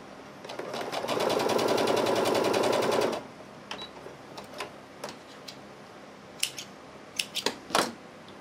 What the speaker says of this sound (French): Une fois qu'ils sont bien alignés, je vais venir coudre